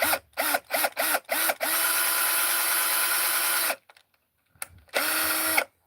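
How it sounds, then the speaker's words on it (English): A hole being drilled out at a workbench while making model trees: a few short ratcheting bursts, then a long steady whirring drill run, a pause, and another shorter run, close and loud with no talking. "get that drilled out right there"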